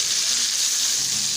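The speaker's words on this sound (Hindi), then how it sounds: "आप देख रहे हैं कि ये आहिस्ता आहिस्ता से भून के तैयार हो रहा है" Tomato paste and chicken masala frying in a karahi, a steady, even sizzle with a bright hiss throughout and no talk.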